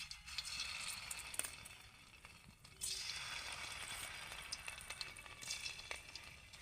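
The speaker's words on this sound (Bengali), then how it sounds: "এবার আমি যে ঢ্যাঁড়সটাতে বেসন মিশিয়ে রেখেছিলাম সেই ঢ্যাঁড়সগুলোকে এখান থেকে একটা করে নেব আর তেলের মধ্যে দিয়ে ভেজে নেব" Okra pieces coated in besan batter fry steadily in hot oil, giving a continuous close sizzle with light crackling that swells briefly midway, with no voices.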